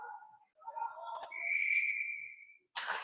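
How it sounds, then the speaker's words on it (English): A referee's whistle blown during an ice hockey game between Chatham and WMPQPL, heard as a loud sustained shrill blast amid arena noise, followed by a sharp burst of crowd or rink sound. "We got a whistle here."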